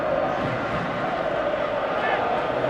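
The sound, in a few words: football video game crowd reacting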